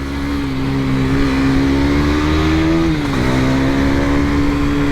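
A KTM Duke 250 ABS motorcycle weaving through traffic, its engine holding a loud, steady buzzing drone close by, with a brief dip in pitch as the rider rolls off and back on the throttle.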